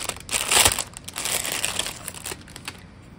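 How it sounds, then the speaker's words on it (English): Plastic packaging of a crochet safety eye tool prototype being handled, producing close, irregular crinkling and crackling bursts, loudest near the start and tapering into lighter rustles. "Sorry for the crinkling."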